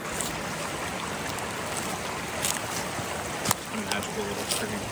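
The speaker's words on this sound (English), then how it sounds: "Magical little stream" A small woodland stream flows with a steady, broad rushing hiss at moderate distance, a few faint clicks and footstep-like taps on top, and speech faintly present.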